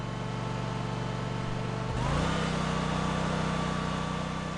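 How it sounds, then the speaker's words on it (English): Exmark Lazer Z mower engine catching after a steady whirring start, then settling into a loud, even running drone. "Turn the ignition key to the start position. When the engine starts,"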